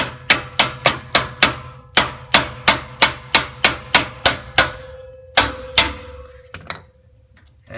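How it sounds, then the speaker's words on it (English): A hammer taps repeatedly on the exhaust Y-pipe flange of a Ford F-150, a fast run of sharp, ringing metallic strikes close up, a brief pause, then a few more hits and a fading ring. "Now a few taps with a hammer."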